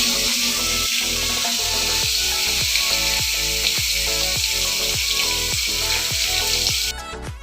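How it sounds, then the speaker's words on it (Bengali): Chital fish pieces frying in hot oil, a dense continuous sizzle with a regular series of utensil clinks and scrapes as the pieces are turned, close and fairly loud. "আমি এখন মাছগুলোকে সুন্দর করে ভেজে নিয়েছি।"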